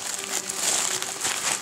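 Bubble wrap and plastic packaging crinkle and rustle as a mailed parcel is unwrapped up close, a short burst of dense crumpling noises.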